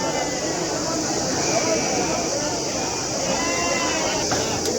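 Sheep-like bleats from several goats rise over a steady murmur of crowd chatter and background noise at a busy outdoor weekly sheep and goat market.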